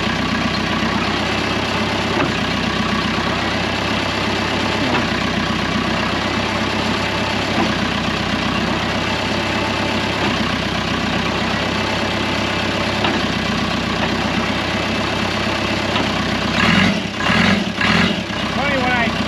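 A Case 450B dozer, abandoned for 15 years, idles steadily with a low, even diesel rumble throughout, briefly lurching louder near the end.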